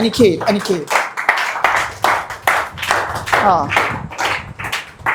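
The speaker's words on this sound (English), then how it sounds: "please clap for her" A student audience claps in bursts of sharp, dense hand claps, rising and falling over a few seconds, with voices mixed in.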